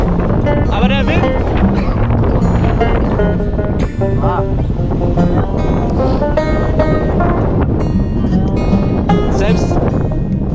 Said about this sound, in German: Aber der Wind!